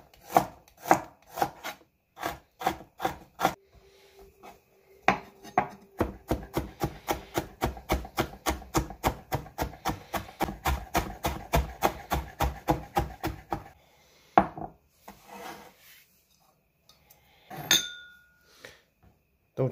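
A knife minces ginger on a cutting board for a fermented black bean shrimp dish, with sharp close chops that start sparse and build into a fast, steady rhythmic run before slowing into scattered taps.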